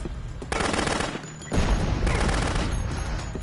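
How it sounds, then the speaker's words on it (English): Video game gunfire, dense rapid automatic bursts that fill the clip, loud and close, with a sharp jump in intensity partway through. "that was bullets you shot me with"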